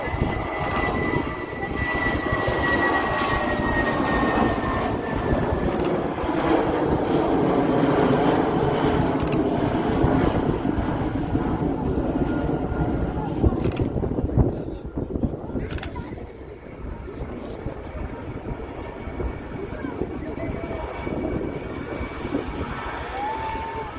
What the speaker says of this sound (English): Just departed there of a Boeing 757-200 back to London Heathrow.